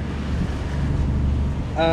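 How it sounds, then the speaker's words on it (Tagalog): Wind blowing outdoors in Hanoi, a steady low rumble buffeting the microphone throughout, with a brief tonal engine-like hum rising near the end. "Medyo nga mahangin dito, tsaka malamig."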